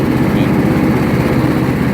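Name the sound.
Toro LX420 lawn tractor engine power being adjusted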